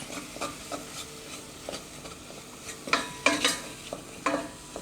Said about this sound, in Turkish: Şöyle iyice biraz daha kavurmak istiyorum.